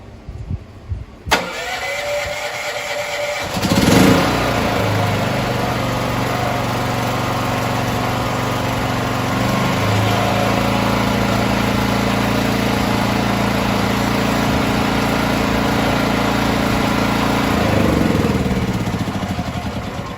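A Predator 8750 watt inverter generator with CO Secure, converted to run on natural gas, is started with a brief starter burst, then catches and runs at a steady, loud engine drone close by, no talking.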